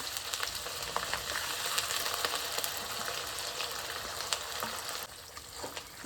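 Dried red chillies frying in oil in a pan, a dense continuous sizzle with sharp crackling pops that drops a little quieter near the end, no voices.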